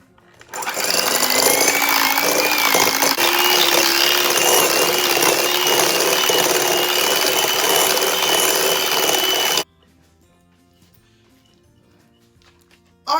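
An electric mixer creams cream cheese and butter on medium speed. The motor whirs loudly and steadily up close with a rhythmic beater rattle, then switches off into near silence.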